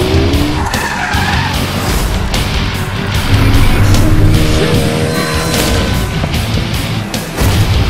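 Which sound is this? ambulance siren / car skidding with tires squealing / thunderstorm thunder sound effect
car skidding with tires squealing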